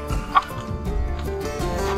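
Chickens clucking outdoors on a hot day, with short soft clucks and one sharper call early on over a low breezy background.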